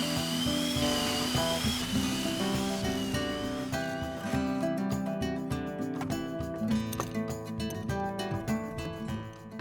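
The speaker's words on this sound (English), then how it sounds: "I can't even tell you how many pocket holes I had to drill." A power drill bores pocket holes in plywood for drawer boxes. A loud, close whine is followed by rougher, choppier bursts as the bit cuts through the wood, and there is no talking.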